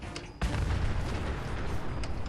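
A deep explosion booms in Fallout 4, erupting suddenly and loud, then rumbling on as a dense roar of debris and noise with no talk.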